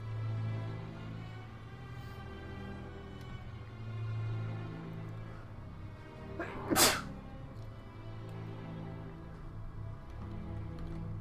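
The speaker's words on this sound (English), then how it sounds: "Sorry, sneezing fit." A single loud sneeze bursts out over a low steady hum, brief and close, with otherwise quiet background around it.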